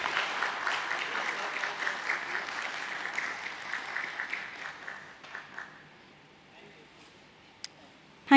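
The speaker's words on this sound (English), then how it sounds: "Can we have a round of applause, ladies and gentlemen?" A crowd claps at a company's listing ceremony, with steady applause that tapers off into quiet, followed by a faint tick and a sudden sound right at the end.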